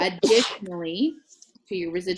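A single sudden sneeze bursts out close by partway through, a brief broadband burst between stretches of a person talking during a team training call.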